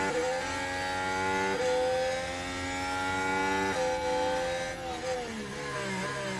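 Race car engines in F1 Manager during the Monaco Grand Prix hold a steady, loud whine that rises and falls through gear shifts, sustained throughout with no talking.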